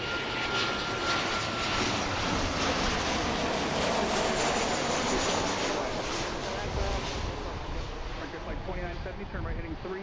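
An airliner on a go-around near Philadelphia gives a loud, sustained jet engine roar with wind buffeting, holding steady and easing slightly toward the end.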